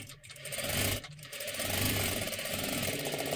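A sewing machine slowly stitching the neckline of a one-piece jacket, with a close steady whirring motor hum that briefly stops twice near the start, then runs continuously.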